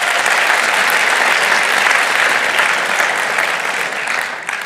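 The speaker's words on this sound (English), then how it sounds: "give a round of applause, to all the athletes signing here today" Loud, dense audience applause for student athletes at a school college signing ceremony, a sustained roar of many clapping hands that stays even and only begins to thin out at the very end.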